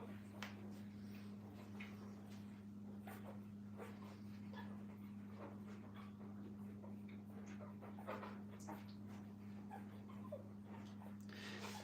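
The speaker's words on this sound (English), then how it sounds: "Believe it or not, puppies make a lot of noise." Young puppies in a training kennel whimpering, yipping and panting while feeding, faint scattered cries over a constant electrical hum, with a brief word spoken.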